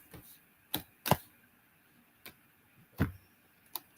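A deck of oracle cards is handled and shuffled, giving a few sharp, separate snaps and taps against a quiet background, close by.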